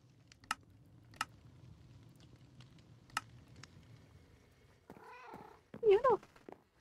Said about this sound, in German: Die gurrende Katze. Immer süß.